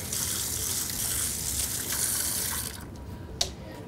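Tap water runs and splashes as a measuring spoon is rinsed at a kitchen sink, a steady close gush that stops near the end, followed by a small clink.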